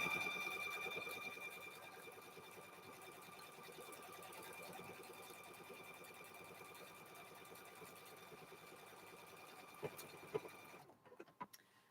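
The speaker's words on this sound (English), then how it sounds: "I have a brother sewing machine that I got from Silky Pantyhose in 1980, and it still works" A 1980 Brother sewing machine stitching a quilt, its needle running in a fast, even mechanical chatter that fades slightly, then stops, followed by a few clicks and handling knocks.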